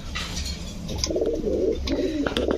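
Pigeons of fancy breeds such as potter, beauty and blondinette coo close by in soft, rolling bursts, with a few brief chirps and light rustling mixed in.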